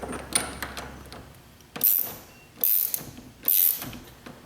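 Channel-lock pliers tightening a nut during a no-crank repair on a Volkswagen Jetta, giving a few close metallic creaks and ratcheting scrapes in short bursts, spaced roughly a second apart, over a quiet background.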